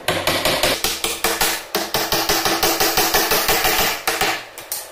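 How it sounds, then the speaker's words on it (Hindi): A magnetic catch is hammered onto a wooden cupboard door: a fast, even series of sharp, close hammer taps with one short pause partway through, and no speech. "उसके बाद इसको थोड़ा थोड़ा ठोक लेना है।"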